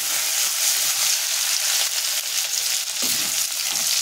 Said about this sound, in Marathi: बारीक चिरून घेतलेला आलं आणि बारीक चिरून घेतलेला लसूण, हे सर्व टाकून आपल्याला परतून घ्यायचं।